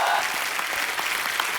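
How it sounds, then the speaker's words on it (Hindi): A television studio audience on The Kapil Sharma Show claps loudly and continuously to welcome an actress guest. The dense applause is sustained throughout and sits close. "आप सबकी जोरदार तालियों के बीच इनवाइट करना चाहूंगा"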